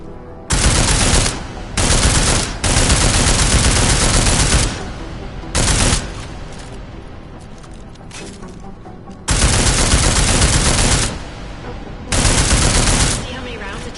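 Automatic gunfire in a PS4 shooter game, aimed at an armored target: several loud, close bursts of rapid fire, some short and some sustained for a couple of seconds, separated by quieter gaps.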